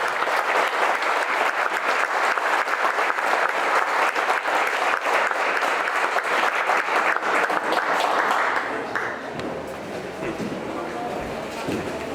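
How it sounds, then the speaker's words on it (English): Loud, sustained applause from a crowd at a county fair's senior recognition, honoring a 100-year-old man; dense clapping for about nine seconds before it drops off and a voice begins speaking. "would you give a nice round of applause to our final seminarian today"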